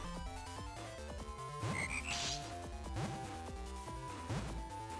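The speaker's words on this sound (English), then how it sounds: "A frog." A frog in Mega Man Battle Network 2 croaks about three times in a regular rhythm over quiet, steady game music.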